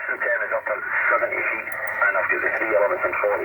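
A strong amateur radio signal from a station in Spain, received on shortwave with a 3-element beam antenna, heard as a loud, continuous band-limited voice transmission through the receiver with steady static underneath.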